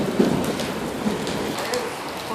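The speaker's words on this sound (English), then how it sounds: "It's pouring." Heavy pouring rain falls steadily in a cold, sudden downpour, a dense continuous hiss of drops on surfaces with faint low rumbles of thunder beneath and no talking.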